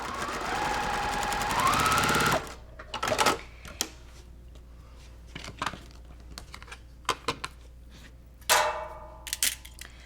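Sewing machine stitching a seam in quilting fabric, a fast mechanical whir for about two seconds, followed by scattered clicks and rustles of handling the fabric.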